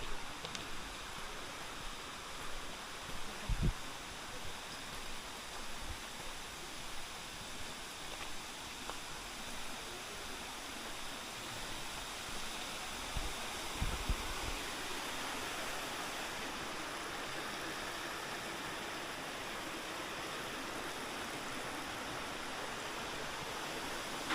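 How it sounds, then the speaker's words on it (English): A small waterfall at a little shrine in Tokyo gives off a faint, even rush of falling water. It stays steady throughout, with a few soft thumps early on and no voices. "This leads, I think this might be the waterfall."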